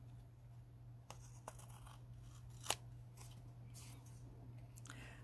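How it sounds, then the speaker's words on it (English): Scissors trim a paper greeting card, giving a few sparse, faint snips and one sharper cut over a steady low hum, with no one talking. "So you're just going to trim."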